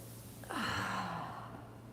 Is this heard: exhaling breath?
yes